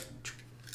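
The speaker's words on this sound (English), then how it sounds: "we get our knife and we cut it off" A quick snip as a knife cuts through bowstring serving thread, two brief crisp cuts close up in a quiet room.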